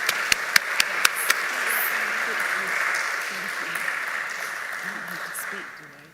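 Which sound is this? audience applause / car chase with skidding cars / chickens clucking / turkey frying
audience applause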